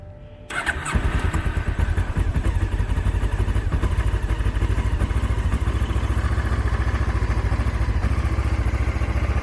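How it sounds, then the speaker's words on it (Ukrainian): A Honda CB500S motorcycle from Germany is started cold in the rain: a brief crank, then the engine catches and settles into a loud, steady, slightly clattery idle close by, with no talking. "Ну, Такий мотоцикл, попробуємо його завести."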